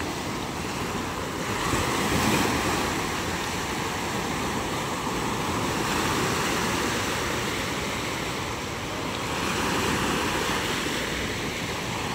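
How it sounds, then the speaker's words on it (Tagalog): Continuous roar of ocean waves and surf mixed with strong northeast monsoon wind buffeting, swelling gently in loudness with no voices. "May alon tayo ngayon mga kamay."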